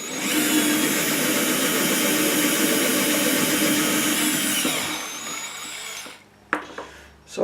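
A 12-volt drill with a 1.2mm bit drilling a hole in a miniature, a steady high whir up close for about five seconds before winding down, followed by a few small clicks and handling knocks.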